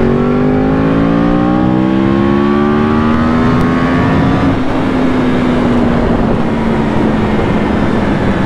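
A loud, close Yamaha R1 sport motorcycle engine revs up with a rising whine, then holds a steady droning note.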